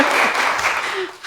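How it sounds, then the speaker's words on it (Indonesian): Church congregation applauding together, a short steady wash of clapping with a few voices mixed in, ending abruptly. "Tepuk tangan untuk Tuhan."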